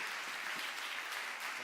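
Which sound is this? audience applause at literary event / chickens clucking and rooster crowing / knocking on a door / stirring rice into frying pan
audience applause at literary event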